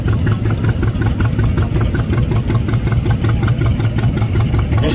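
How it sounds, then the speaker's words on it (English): A John Deere 140 patio tractor engine runs steadily at a low, throbbing idle, close and loud, with a rapid even pulse through a parade setting. "the John Deere 140, patio tractor"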